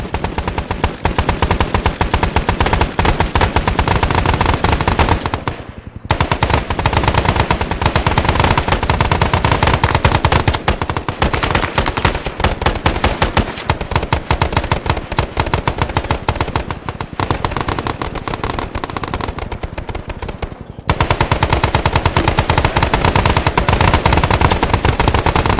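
Sustained machine gun fire in the Arma 3 Vietnam military simulation game, a loud, dense, continuous roar of automatic bursts lasting over twenty seconds with only two brief breaks.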